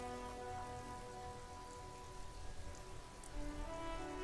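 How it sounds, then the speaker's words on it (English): Rain falls on the white and blue livery of a police motor carriage in the game Disco Elysium. It is a soft, steady patter of drops close by, quiet and continuous with a low hum beneath and no voices. "Droplets of rain fall on the white on blue police livery of the motor carriage."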